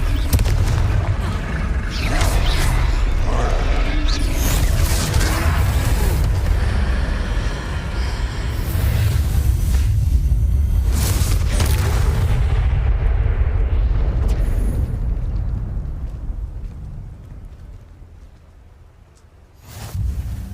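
In the Hogwarts Legacy video game, a Confringo fire spell hits a troll in a loud, booming blast followed by a long rumbling roar of noise that slowly fades.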